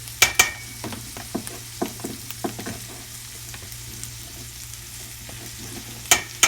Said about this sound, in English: stir that around your sausage to make sure you coat every single piece of sausage